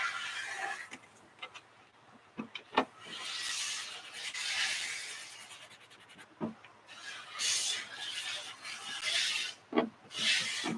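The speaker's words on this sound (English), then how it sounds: "sanding the chest right now" Irregular strokes of abrasive sanding rasp across a hard plastic costume chest piece, starting and stopping, punctuated by sharp knocks and clicks nearby.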